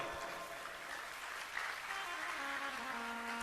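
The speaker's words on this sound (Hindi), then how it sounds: "कथा समझ में आ रही है कि ऐसे ही सूखी ताली बजा रहे? एक बार पीछे तक बजाओ।" Steady audience clapping at a religious discourse on the glory of rudraksha, a fairly soft, continuous patter of many hands heard in a large hall with faint background murmur.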